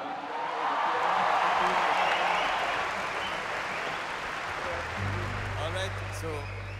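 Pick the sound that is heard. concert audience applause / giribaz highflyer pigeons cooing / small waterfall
concert audience applause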